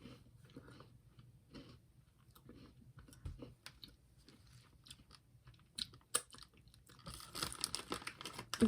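Shortbread or butter cookies are chewed up close, with soft crunching bites and crinkly mouth sounds that grow busier and louder toward the end.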